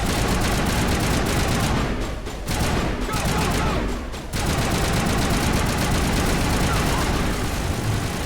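Automated turrets in Mass Effect fire in a dense, continuous barrage of gunfire, loud and close, with two brief gaps in the stream before it resumes.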